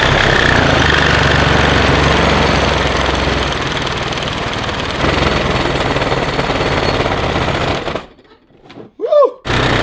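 A Sawzall reciprocating saw cuts hard through an engine mount on a Ferrari F430 or 360, giving a loud, harsh, continuous buzzing rattle that runs for about eight seconds before stopping, followed by brief shouts.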